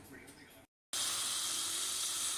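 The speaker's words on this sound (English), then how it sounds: "get your pieces of chuck tender sizzling" Pieces of seasoned beef chuck tender dropped seasoning side down into hot oil spread in a pan set off a loud, steady sizzle right after a brief pause, with faint kitchen noise before it.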